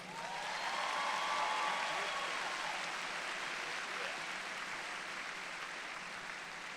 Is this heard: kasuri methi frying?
no